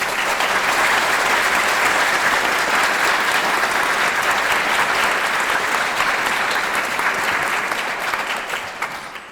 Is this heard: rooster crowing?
no